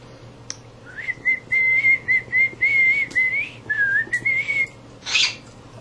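A pet cockatiel whistles a string of clear, tuneful notes, several short phrases with brief gaps between them, rising at times, followed by a sharp chirp, close and alone with no talking.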